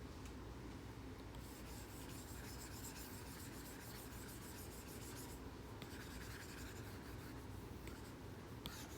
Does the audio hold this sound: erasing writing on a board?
yes